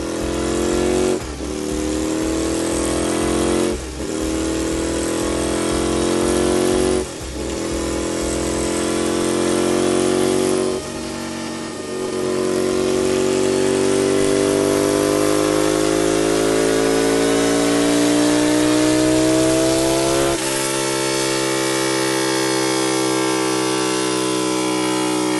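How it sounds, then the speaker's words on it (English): A high-powered Ducati motorcycle engine built for Bonneville salt-flat speed runs loud and close, with a deep harmonic drone, several sharp rev blips early, then a long sustained rising rev. "Gentlemen, is the most powerful Ducati in the world."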